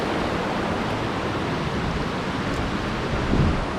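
A forest waterfall near Puttur gives off a steady, dense rushing wash of water that stays even and fairly loud throughout.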